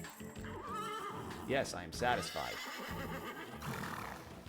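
A horse from the game Shin Megami Tensei 5 whinnies in a couple of short, rising calls, loud and near, set against game music while a voice speaks briefly.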